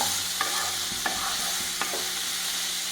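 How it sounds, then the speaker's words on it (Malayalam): Chicken stew with green chilies and black pepper sizzles loudly in a pan, a constant frying hiss broken by three clear spoon knocks against the pan at even gaps, no voices. "നല്ലോണം ഒന്ന് വാഴ്ത്തി കൊടുക്കാം"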